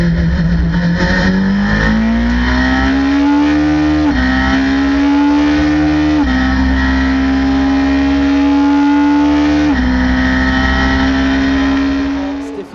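Ferrari GT race car engine heard onboard at Le Mans, loud and close, revving up through several gearshifts with rising pitch, continuous and unbroken by talk.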